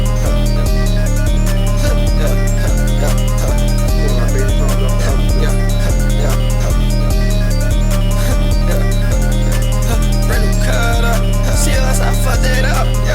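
A rap track plays with a steady, punchy beat of regular kick hits and a sustained tonal line, loud and continuous throughout with no talking over it.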